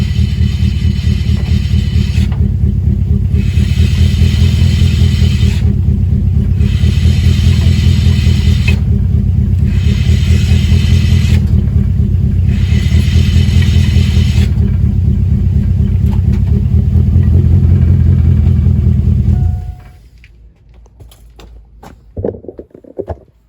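A 2000 Chevy Silverado reverses and brakes on rusty rotors: a steady, loud engine rumble runs for about twenty seconds with repeated bursts of harsh scraping over it, then cuts off, leaving faint knocks.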